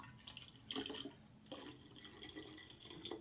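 Lemon balm cyser mead must poured back into a fermenter, heard as quiet watery splashing and dribbling in a couple of bursts across the clip, with no voices.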